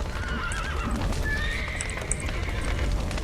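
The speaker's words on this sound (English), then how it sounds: "First, the horses." Horses in The Witcher 3 video game whinny repeatedly over hooves clopping, set against a dense, noisy in-game backdrop.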